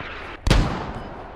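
A single sharp, loud gunshot cracks out in the Squad military shooter game, followed by a short fading echo.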